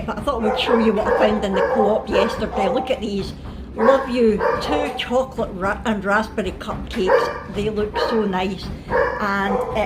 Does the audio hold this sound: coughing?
no